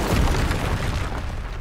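The Incendio fire spell from Hogwarts Legacy bursts out as a loud, dense whoosh and boom of fire that fades slowly over under two seconds.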